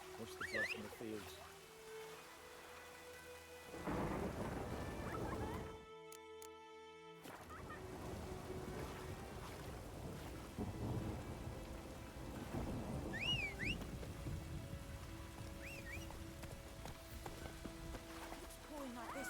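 Rain pours and thunder rolls in a storm in the video game The Witcher 3, with heavy rumbles swelling over steady rainfall, a short cut-out midway, and a speaking voice over the storm.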